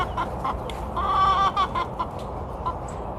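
Easter Egger hen clucking in a backyard coop, a run of short repeated clucks with a louder drawn-out call in the middle, close and alone.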